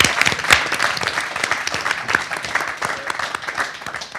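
Audience applause at a business pitch competition finale, a dense burst of many hands clapping at once, loud and steady, slowly thinning over a few seconds.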